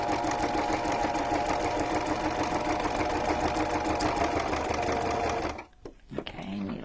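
Close and continuous, a sewing machine stitches a junk journal cover made from rescued materials and ribbon, then stops abruptly near the end, leaving brief handling noise.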